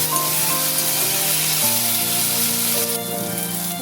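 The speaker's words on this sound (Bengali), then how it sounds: "দিয়ে দিচ্ছি একসাথে বেটে রাখা রসুন আর কাঁচা লঙ্কা।" Ground garlic and green chilli paste hitting hot oil in a pan, a loud, steady sizzle and spitting hiss that runs the whole time with no voices.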